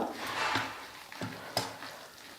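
Idli batter being stirred by hand with sautéed vegetables and chopped coriander for paniyaram, soft wet mixing and scraping with a few distinct thick squelches, close and quiet with no talk.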